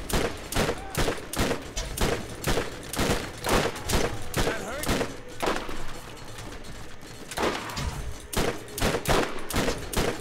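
Rapid bursts of gunfire from an enemy in the video game Borderlands, repeated volleys hammering loudly and close for the whole stretch, with brief lulls between clusters of shots.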